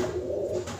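A short low cooing from pigeons, one rolling throaty call heard near and alone.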